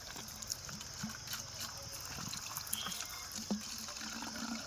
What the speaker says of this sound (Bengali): আজকে বেশ জোরে জল পড়ছে